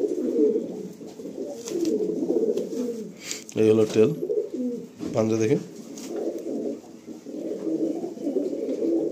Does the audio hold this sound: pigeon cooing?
yes